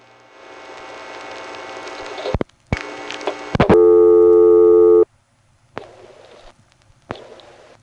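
A Hensel vacant-level intercept tone from a 1976 Pennsylvania telephone exchange sounds as a loud, steady electronic drone for about a second, preceded by clicks and line noise and followed by quieter hiss and relay clicks on the line.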